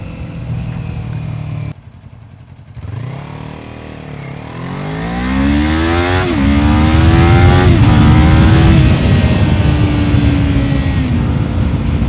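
A Kawasaki Ninja 400 motorcycle with modified gearing accelerates through the gears in city riding, its engine note rising in pitch repeatedly with short dips at each shift, loud and close throughout.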